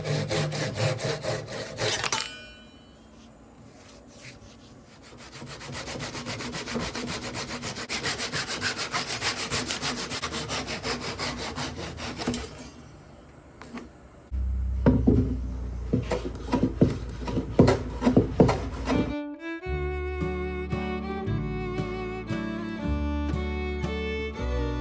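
Hand saw cutting lap joints in wood stretchers for a workbench built from free timber, with a long run of steady rasping strokes that shifts into sharper, more uneven cuts near the end, close and loud with no talk.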